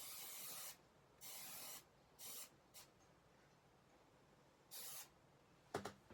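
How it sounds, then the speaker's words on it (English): Photo mount spray adhesive sprayed from an aerosol can in several hissing bursts, each lasting up to a second, with short gaps between them and a faint clatter at the end. "This is photo mount spray adhesive."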